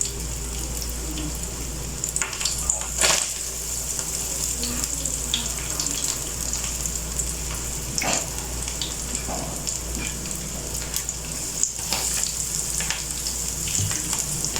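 Egg kebabs fry in a shallow layer of oil with a continuous close crackling sizzle, broken now and then by sharper pops and spatters.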